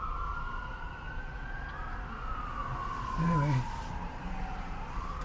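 Sirens from an ambulance and two police cars wail steadily in the background, rising and falling, with a voice speaking briefly over it.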